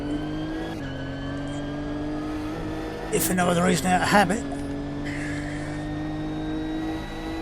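Race car lapping in the sim racing game Automobilista 2, a steady engine hum with a brief louder burst of revving and tire noise midway, under a voice talking.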